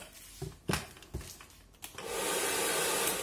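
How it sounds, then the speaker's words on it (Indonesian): A hair dryer switched on at its hottest setting while working on a Yamaha Aerox headlamp; a few handling knocks and clicks come first, then a steady, close whooshing blower hum continues to the end. "kita nyalain di step yang paling panas di hair dryer"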